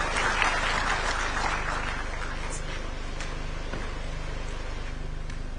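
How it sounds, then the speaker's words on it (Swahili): A crowd applauds to welcome the governor at an investment conference in Murang'a county, a dense burst of clapping that is loudest at first and then settles into a steady, fading patter. "Tumkaribishe gavana wetu kwa makofi tafadhali."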